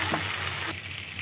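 Meat with a little sugar frying in a pan, a steady close broadband sizzle that shifts and softens partway through the brief moment, with no voices.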